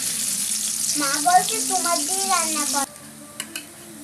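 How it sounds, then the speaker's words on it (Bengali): Onion and garlic paste hisses in a hot pan while river crab curry is being made, a loud, close sizzle with bursts of stirring. A short, sharp clatter near the end is followed by quieter frying. "রসুন বাটা দিয়ে দিলাম, দিয়া হালকা ভেজে নেব।"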